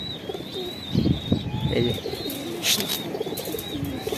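Shahjahanpuri pigeons coo in a steady series of soft, throaty calls close by, with occasional chirps and a brief word spoken near the start.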